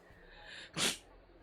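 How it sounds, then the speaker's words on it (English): A single short, sharp sneeze bursts out after a faint breathy build-up, close and fairly quiet. "That was a small sneeze."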